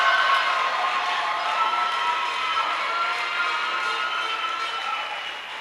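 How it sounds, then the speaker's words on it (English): Graduation ceremony audience at a secondary school giving a sustained round of applause mixed with cheering and crowd noise, steady and loud throughout, fading slightly at the end. "a round of applause."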